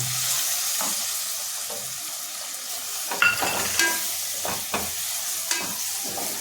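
Chopped tomatoes go into a sizzling pan for a soybean bhaji, a soft fry hiss broken by several clattering spoon scrapes and stirring knocks, close and fairly quiet.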